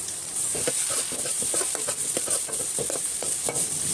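Chopped onions and tomatoes sizzle steadily in a hot pan, with repeated scraping and stirring sounds from a spatula.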